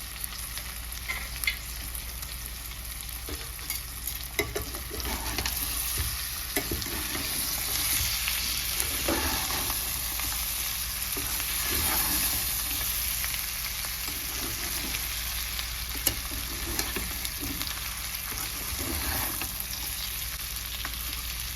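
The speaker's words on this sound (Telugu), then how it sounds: "పచ్చి జీడిపప్పులు ఉన్నాయి కదండి అవి దీంట్లోనే వేసి ఫ్రై చేసుకోవాలి" Raw cashews fry in oil in a pan for a cashew chicken fry, a steady close sizzle with faint scraping stirs and occasional pops, continuous for the whole stretch without talk.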